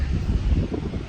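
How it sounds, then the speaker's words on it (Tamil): Strong wind on the open sea aboard a cruise ship sailing between Belfast and Liverpool makes a heavy, low buffeting rumble against the microphone, gusting unevenly without voices. "பயங்கர காற்று, நடுக்கடலில் போய்கிட்டு இருக்கோம் ஸ்பீடாக"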